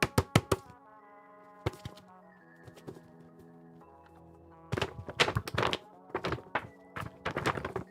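A paperback book is slapped and knocked against a desk in a run of sharp, close thuds, with a cluster at the start, a few scattered hits, then a denser burst of knocks near the end.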